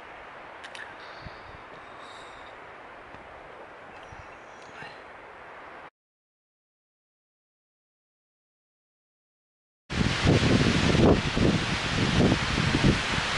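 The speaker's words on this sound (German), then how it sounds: "Das ist ein ausgewachsenes Windchen, was hier gerade aufzieht." Strong wind gusts through forest trees as a storm builds, a steady rustling roar that cuts out briefly and then returns louder and closer.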